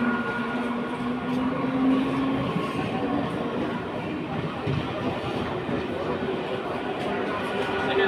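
A train pulls out of Sodepur station bound for Kalyani with a steady, close rumble of wheels and carriages, and voices murmur faintly beneath it.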